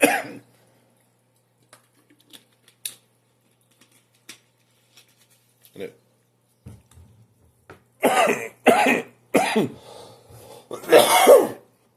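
After scattered faint clicks and rustles, a close run of four harsh coughs comes in quick succession near the end.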